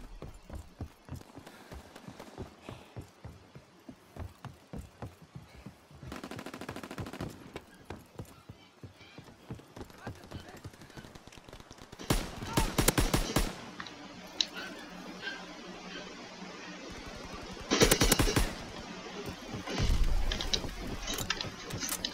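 Gunfire from an M1A1 in Call of Duty: World War II, with bursts of loud shots near 6–7, 12–13 and 18 seconds and more at the end, set against steady in-game background noise.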